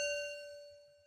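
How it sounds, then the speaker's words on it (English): A train engine's bell gives a single clear ding that rings out alone and slowly decays, the bright tone holding steady as it fades. "Spencer's driver rang the bell again."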